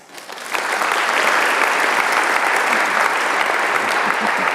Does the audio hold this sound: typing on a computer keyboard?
no